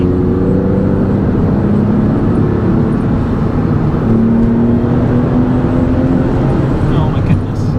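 A Porsche 996 accelerates hard in third gear on a road, its engine note rising steadily and loudly with a constant drone, briefly shifting pitch midway.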